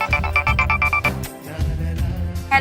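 A phone ringtone plays a quick run of repeated electronic beeps and then carries on as a busy, tuneful melody, close and fairly loud.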